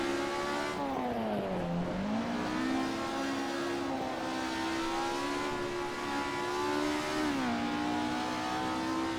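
A Ford Escort RS1600 with a BDA engine, racing at the Nürburgring GP circuit in Assetto Corsa, revs loudly and steadily, its pitch dipping on shifts and climbing again, close and alone.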